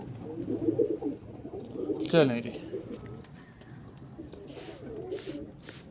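Pigeons coo steadily up close in a loft of flying pigeons, low throaty calls rolling under a man's speech, with one louder flutter partway through.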